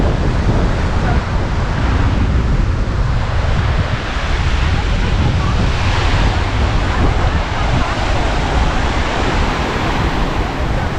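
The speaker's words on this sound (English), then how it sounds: "Made it to the ocean." Ocean surf washing up on the beach at West Palm Beach, Florida, a loud continuous roar of breaking waves mixed with heavy wind buffeting the microphone.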